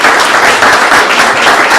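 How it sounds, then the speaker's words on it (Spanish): A university lecture audience breaks into strong, sustained applause for a doctor after her talk on metallic nanoparticles, dense and loud throughout. "le damos las gracias a la doctora Alma con un fuerte aplauso"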